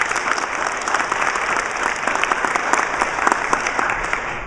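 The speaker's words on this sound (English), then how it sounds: "If you'll give them a round of applause." A seated audience at an annual meeting gives a sustained round of applause, dense and steady clapping from many hands across the whole stretch at a fairly loud, even level.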